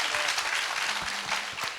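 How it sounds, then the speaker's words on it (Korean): An audience at a citizens' talk event applauds, steady dense clapping that fills the whole moment, close and fairly loud. "그래도 힘내시라고 박수 한번 부탁을 드리겠습니다"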